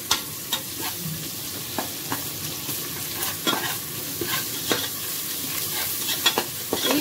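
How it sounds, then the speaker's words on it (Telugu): Ginger garlic paste fries with chicken for a spicy curry in a pan, a steady sizzle broken by regular scraping strokes of a spoon stirring, close and fairly loud. "ఇప్పుడు ఇందులో మనము అల్లం వెల్లుల్లి పేస్ట్ వేసుకోవాలి. ఎక్కువగానే వేసుకోవాలి, 2 స్పూన్ల వరకు వేసుకోవాలి."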